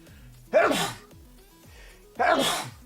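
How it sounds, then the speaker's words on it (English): A person sneezes twice, loud and close, each a sudden burst with a breathy intake before it, separated by a short quiet pause. "I have to sneeze."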